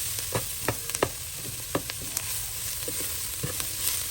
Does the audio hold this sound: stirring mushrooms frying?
yes